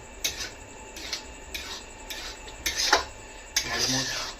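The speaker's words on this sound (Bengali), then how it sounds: "পোলাও তোমরা নাড়াবে সুন্দরভাবে কি সুন্দর দেখো এরকম কড়াই ঘুরবে" Cooked rice pulao made as fishing bait for katla, stirred in a wok with a spoon, giving a string of separate scraping and clinking strokes close by, roughly one every half second, with no talk.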